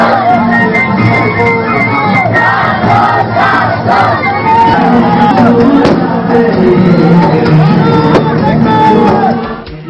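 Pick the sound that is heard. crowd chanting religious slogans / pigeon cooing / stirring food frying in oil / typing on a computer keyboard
crowd chanting religious slogans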